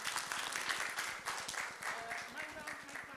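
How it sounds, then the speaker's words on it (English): A crowd applauds steadily, with dense clapping heard at a distance and murmuring voices underneath. "give the man a warm round of applause"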